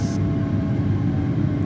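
A steady low rumble and drone of a passing pair of Talent 2 electric multiple-unit trains in the game Train Sim World 2, continuous and fairly loud throughout.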